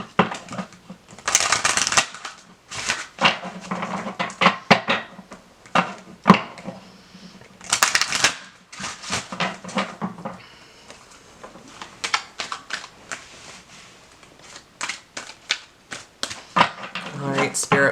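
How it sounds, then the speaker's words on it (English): Oracle cards shuffled by hand in an irregular run of soft, crisp riffling bursts and slaps, mostly close and fairly loud, with a brief voice now and then. "All right, let's pull another oracle card here."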